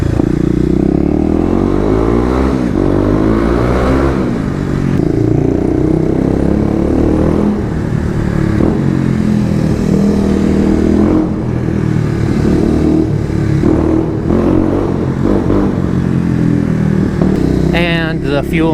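A Kawasaki KLX250 dual-sport motorcycle with new modifications accelerates hard, its engine note rising in loud repeated sweeps through the gears over steady wind noise, with a rider talking over it.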